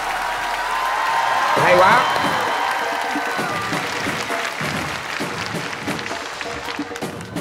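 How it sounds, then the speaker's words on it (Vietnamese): A studio audience at a Vietnamese comedy music show applauds, a steady wash of clapping and crowd noise, with a voice calling out briefly partway through. "Mời vỗ tay nào ông Việt."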